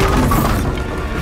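A Bombarda blasting spell detonates in Hogwarts Legacy with a loud, booming crash that hits at once and fades over about a second.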